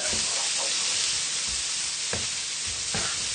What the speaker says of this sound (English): So give the spices a good stir into the onions, get everything mixed together.